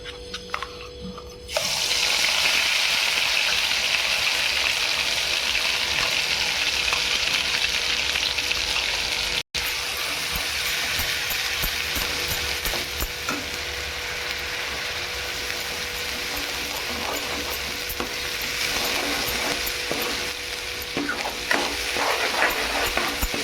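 Ground masala paste frying in hot oil in a kadhai, a loud steady sizzle that starts abruptly after a short quiet lead-in and holds for about twenty seconds with light scraping from stirring.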